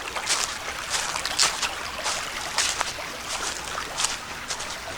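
A creek runs beside a hiking trail in French Creek State Park, its close, steady babble rising and falling in bright splashy bursts throughout, with no voices.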